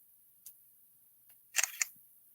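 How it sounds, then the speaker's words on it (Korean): Phone screenshot shutter sound: a faint tick, then a crisp two-part camera click, close and clear in a quiet room, no talking over it. "두 개를 이렇게 눌러주면 찰칵 소리도 나고 화면도 지금 뭐가 반짝했죠"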